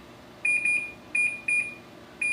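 Kitchen timer beeping in a kitchen while soup cooks, short bursts of high electronic beeps repeating in a regular pattern, fairly close and clear.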